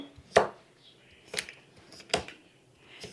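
A knife from a Piklohas review cuts through a hard raw carrot: three crisp, separate chops, each a sharp crack followed by a quiet pause, close and clear.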